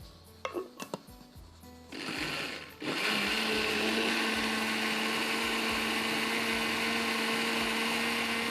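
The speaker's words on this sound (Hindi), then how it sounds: "अच्छी तरह से बारीक पीस लीजिए ताकि प्याज, अदरक, लहसुन, बादाम का जो दाना रह गया है, नारियल का कुछ रह गया, सब अच्छी तरह स्मूथ पिस जाए" An electric blender grinding onion, ginger, garlic, almonds and coconut into a smooth paste; a few short clatters and bursts, then a loud, steady whirring motor running continuously up close.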